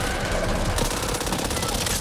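SMG gunfire in the video game Back 4 Blood: a loud, continuous stream of rapid automatic shots filling the whole short clip, close and dense.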